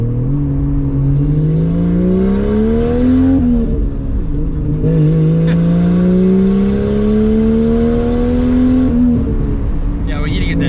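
Lexus IS300 fitted with a 1JZ engine revving close up on light throttle, its tone climbing steadily, dipping briefly, then rising again in a smooth continuous drone.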